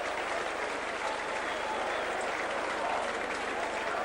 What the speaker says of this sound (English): Brilliant work there from Round, and just listen to this crowd.